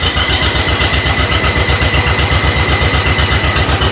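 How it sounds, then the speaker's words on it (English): A close, loud tractor engine chugging at a steady idle in neutral with the PTO disengaged, with a fast even rhythmic thump throughout. "there's the tractor running in neutral, no PTO engagement"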